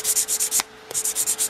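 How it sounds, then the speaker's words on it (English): A fine grit file rasps across an acrylic nail in rapid back-and-forth strokes, close and crisp, with a brief pause midway before the quick rhythmic filing resumes. "Now I'm going to take a finer grit file and just kind of give it a quick little"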